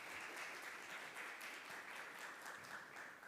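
A live audience applauds steadily for a guest joining the judging panel at an innovation challenge event, a dense even wash of clapping heard alone at moderate level.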